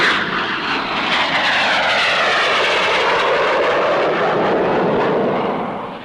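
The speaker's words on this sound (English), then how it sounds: "Fleet Air Arm scimitars in action." Fleet Air Arm Supermarine Scimitar naval jet fighters roar past at the Farnborough air show, a loud continuous rushing engine sound that swells and holds through the pass, with no one speaking.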